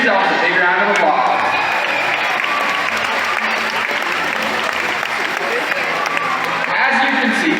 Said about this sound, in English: Ladies and gentlemen, give yourselves a big round of applause.